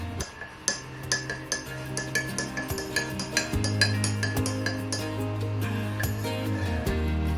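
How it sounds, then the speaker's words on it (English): A spoon stirs Navajo coffee with creamer to break up clumps, clinking quickly and rhythmically against the cup with bright, close taps and no voices. "start stirring it up, trying to get as much of the clumps and everything out as possible."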